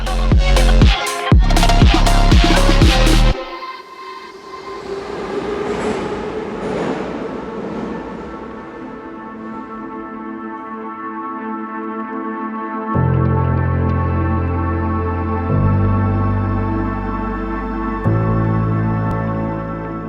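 A metro train pulls into Derzhprom station in Kharkiv, a loud rumble and screech of wheels easing into a sustained whine and hum of the stopped train. Tonal chimes come in near the start and again later.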